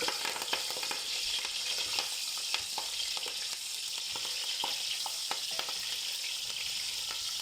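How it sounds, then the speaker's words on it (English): Steady, bright sizzling of onions and curry leaves frying in a hot pan, with occasional crackles and stirring clicks, continuous and close with no talking. "See, it's frying out nicely."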